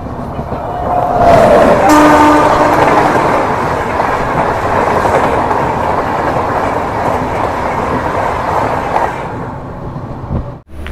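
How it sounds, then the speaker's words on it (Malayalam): The Humsafar Express runs near Ariyalur railway station, its horn blaring early on over a loud, continuous rumble and rattle of coaches and wheels on rails, heard from on board. "ട്രെയിനിപ്പോൾ അരിയല്ലൂർ റെയിൽവേ സ്റ്റേഷനിൽ എത്തിയിരിക്കുകയാണ്."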